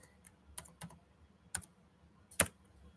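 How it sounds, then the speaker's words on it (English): Slow, sparse keystrokes on a computer keyboard, a handful of separate clicks spaced out over a few seconds with one sharper tap near the end, close and fairly quiet over a low background hum. "Let me get it typed in. I type slowly."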